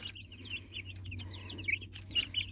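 Twelve-day-old young roosters of a local breed give short, high, scratchy crowing calls, several overlapping at moderate distance over a low steady hum.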